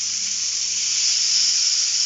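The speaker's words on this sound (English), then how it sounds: "we're just going to place the kebabs on the grill. Ooh, listen to that sizzle." Turkish kebabs laid on a hot oiled grill give off a steady, bright sizzle and hiss, close and constant with a faint low hum beneath and no talk.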